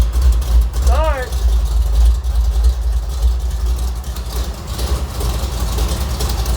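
A 1969 Ford F100 prerunner's engine starts for the first time and settles into a steady, rumbling idle, with deep low-end throb throughout and a brief rising whine near the start.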